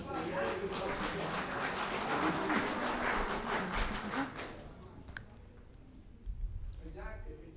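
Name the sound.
audience applause at community meeting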